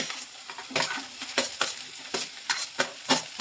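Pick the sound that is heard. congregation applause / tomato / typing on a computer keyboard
tomato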